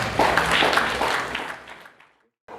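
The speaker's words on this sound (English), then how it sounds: "I think we can clap for him for that." Brief audience applause at a Rotaract club event, a short burst of clapping that fades out within two seconds, followed by a moment of near silence and a faint resumption at the very end.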